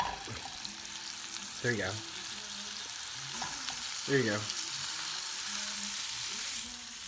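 Food fries in a pan with a steady, close sizzle that runs the whole time, while a voice speaks briefly over it.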